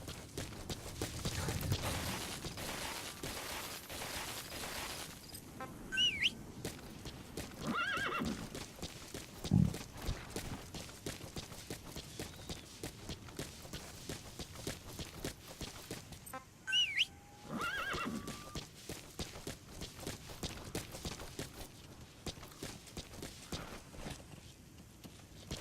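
D-Horse from the video game Metal Gear Solid V neighs in a couple of distinct whinnies while hooves clip-clop in a steady walking or trotting rhythm over faint ambient outdoor noise.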